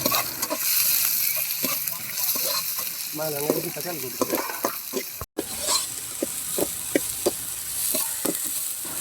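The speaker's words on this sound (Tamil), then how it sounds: "இப்போது பொடியாக நறுக்கி வச்சிருக்கிற வெங்காயத்தை இதில் சேர்த்து நல்லா வதக்கிக்கோங்க" Continuous sizzle of chopped onions sautéing in a pan, with scattered clicks and scrapes of stirring and a brief murmur of voice under the hiss.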